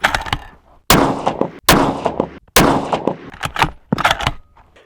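Four rifle shots fired while confirming the zero on a long-range rifle, each a sharp loud crack with a decaying tail, spaced roughly a second apart and heard alone with no talk.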